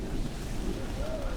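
Water laps at the Golden Gardens dock at night, a low steady wash of small waves mixed with wind rumble on the microphone.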